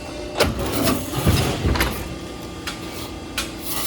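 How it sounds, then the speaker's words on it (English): A foot-pedal metal shear cuts through sheet material with a few sharp mechanical clunks and thumps, a heavy impact near the middle, over a low machine hum. "And we're going to hit this foot pedal. It's going to shear."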